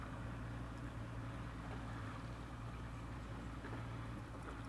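A fishing boat's engine idles on the Wolf River in Wisconsin beside seawalls, a steady low hum that runs unbroken and fairly quiet throughout, with faint wind and water noise and no talk.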